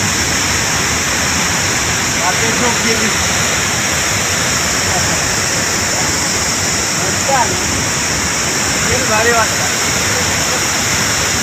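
The Rautwadi waterfall at Dajipur roars as a loud, steady wash of rushing water, while voices talk faintly underneath at times.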